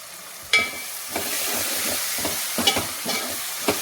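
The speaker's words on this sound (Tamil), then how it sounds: "இந்த குழம்புக்கு தேவையான உப்பு இந்த வெங்காயத்தோடையே போட்டு வதக்கணும்" Onions sautéing with salt in a pan for urundai kuzhambu, a constant soft sizzle broken by repeated scraping stir strokes, close and clear with no talking.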